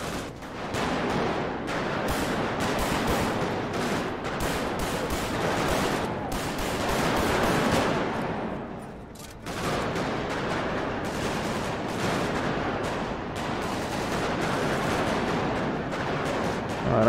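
Dense, continuous gunfire from a shootout in the video game GTA V, with rapid overlapping shots and bursts that sound like automatic weapons, loud and sustained with barely a pause.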